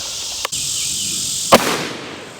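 Two sharp rifle reports, evidently a 6.5 Creedmoor firing Hornady Black ammunition at a Texas range, crack out about a second apart over a steady high insect-like drone, the second followed by a brief decaying echo.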